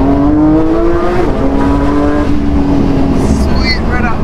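A 2022 Porsche GT3 engine, still being broken in, revs hard toward 7,000 RPM in a loud, rising harmonic howl, eases off and holds, with people talking over it near the end.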